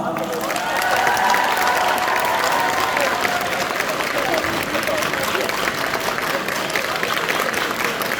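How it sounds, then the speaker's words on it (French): A convention audience applauds steadily to welcome an actress onto the stage, a broad, continuous wash of clapping with some crowd noise underneath, holding at an even level throughout. "Je vais vous demander de faire un tonnerre d'applaudissements pour celle que vous connaissez sous le nom de Guenièvre dans Kaamelott."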